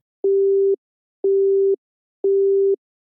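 A telephone disconnect tone after a hung-up call: three identical steady beeps, each about half a second long, evenly spaced a second apart, clean and alone against silence.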